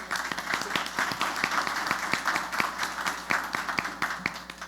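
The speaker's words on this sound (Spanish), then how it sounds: "Pido un aplauso para Carolina Jaime Foy." Audience applause for a speaker at a panel on women's political participation, with individual claps standing out in a quick rhythm over the sustained clapping of the crowd.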